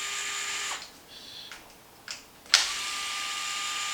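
A small tool works screws out of the cover on a Traxxas MAXX RC truck, giving short whirring bursts and a sharp click between quieter pauses, close and alone over steady background hiss.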